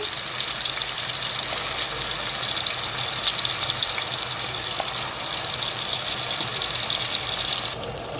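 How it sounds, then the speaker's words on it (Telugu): Onion masala sizzles loudly and steadily in hot oil in a pan for chicken fry, a dense continuous frying hiss close by with no talk. "ఆయిల్ వేడవింది ఇప్పుడు ఈ మసాలా వేసుకుందాము"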